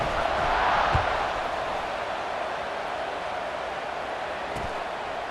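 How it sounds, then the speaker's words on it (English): A football stadium crowd roars steadily just before kickoff, a broad and continuous wash of cheering that fills the whole stretch, with a couple of faint thumps inside it. "They're set to kick it off, and this crowd now ready to get behind them."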